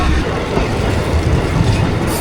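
A train runs along a city railway line in Myanmar, its steady, loud rumble and rattle of wheels on track filling the short stretch without a break.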